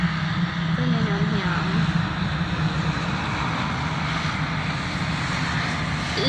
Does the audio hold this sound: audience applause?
no